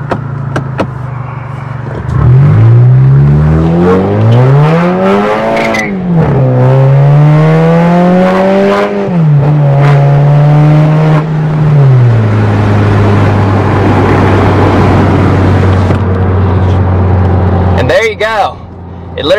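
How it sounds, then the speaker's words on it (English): A Mk6 Volkswagen Jetta GLI's turbocharged engine revs hard at full throttle with traction control off, loud and close, the pitch climbing, dipping and climbing again before settling into a steady drone, ending with a brief clunk. "I've never actually given it full throttle on here, and you guys let like the sound takeover, so I'm going to do that right now"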